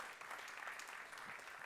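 Steady applause from a theatre audience at an awards show, a dense even patter of many hands clapping throughout, moderately distant and unbroken.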